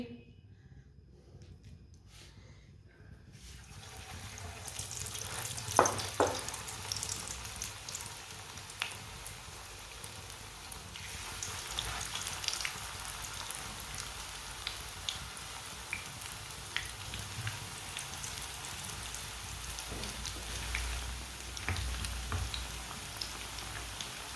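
Ghee sizzles in a hot pan while frying a masoor dal recipe, a quiet start giving way to a steady, close crackling hiss with scattered pops that continues throughout, with no talking.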